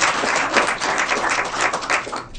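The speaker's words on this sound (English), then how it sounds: "let's give them another round of applause this year" A round of applause at a school board meeting honouring employees, dense steady clapping from a room full of people lasting a couple of seconds and cutting off at the end.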